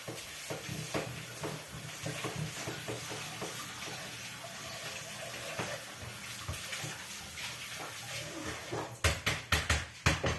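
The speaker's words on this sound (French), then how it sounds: "Et je vais le faire revenir quelques minutes dans un peu d'huile d'olive" Sliced leek sautéing in olive oil in a pan, a continuous bubbling sizzle with stirring scrapes, ending in several sharp, louder bursts as it is tossed; no talk.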